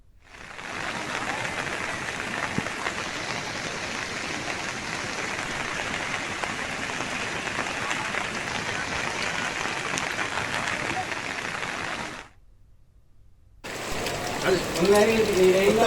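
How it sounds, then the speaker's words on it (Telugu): Heavy flood rain in Kamareddy, Telangana, hisses as a dense, steady wash of noise for about twelve seconds, breaks off briefly, then returns under a speaking voice. "ఇంకా ఈ వర్షం కొనసాగే ప్రమాదం ఉంది"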